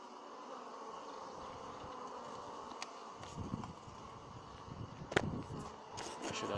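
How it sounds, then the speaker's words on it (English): Honey bees buzz around an opened hive, a faint, thin, steady drone that grows busier and louder partway through, with a few brief knocks and clicks close by. "I'm losing some loose bees there, boy."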